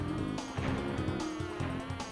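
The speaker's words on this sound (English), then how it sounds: "you need to hear the buzzing of the bees as a cue as to when to spin" Bees buzzing in Crash Bandicoot 2, a loud continuous droning hum that swells and fades in repeated waves with no talk.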